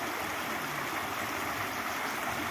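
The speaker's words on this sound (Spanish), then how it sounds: "Este es el río Cañaveralejo con una temperatura de 28 grados centígrados." The Cañaveralejo river flowing, a steady broadband rush of water that stays even and full throughout with no gaps, close by and fairly loud.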